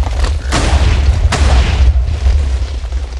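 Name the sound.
bomb gem explosion in Minecraft Miners Deluxe mod, video game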